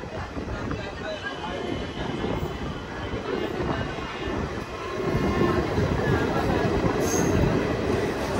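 A train at New Tarighat railway station in India, a continuous rumble of rolling rail cars that grows louder about halfway through, with a brief high squeal near the end.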